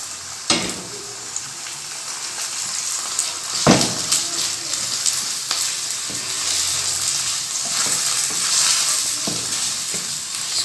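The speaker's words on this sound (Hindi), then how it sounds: "इसको हमने थोड़ा सा बस इसके साथ फ्राई करना है।" Minced meat keema fries with golden onions in a pan, a loud continuous sizzle with occasional stirring scrapes and clatters, up close throughout.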